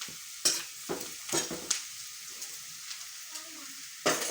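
Crushed stale chapatis and peanuts being stirred in a pan, several sharp scraping and rustling strokes at uneven intervals, close and fairly quiet, with brief faint pauses between.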